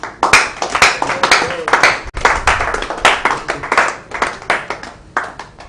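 Audience applause at a live-streamed event, with dense clapping close by that swells in waves and carries on steadily for several seconds, with a few louder individual claps standing out.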